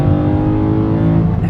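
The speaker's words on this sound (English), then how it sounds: "got a nice V8 scream" A BMW E92 M3 V8 engine drones loud and close in a steady, sustained rasp, with no talk.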